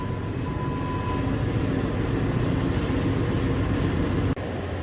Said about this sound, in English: the engine fires in astern.